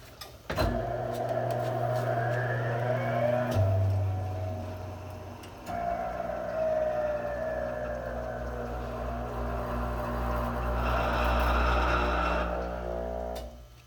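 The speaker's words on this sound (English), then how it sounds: "now we're ready to spin the wheel and see what type of result we get" Wheel balancer spins a 2011 Dodge Charger wheel fitted with a new tire, a motor whine rising then holding steady through the spin, with a brief drop and restart before winding down near the end.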